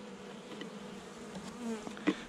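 Honeybees buzz close by as they fly back into the hive entrance during a November colony check, a dense insect hum with a few brief louder passes near the end.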